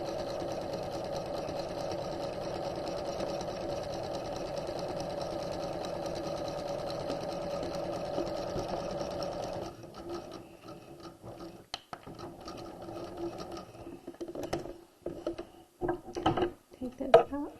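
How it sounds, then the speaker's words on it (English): A sewing machine runs in a steady, continuous whir while stitching a skirt waistline at a quarter-inch seam, then stops and gives way to softer fabric handling, clicks and rustling up close. "we're going to sew down to the bottom of the skirt at 1/4 inch"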